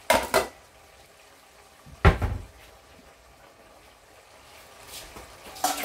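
Drained potatoes are tipped into a pot of chickpea and potato curry, giving a few short clattering knocks of pan and utensils, separated by quiet gaps, close and moderately loud.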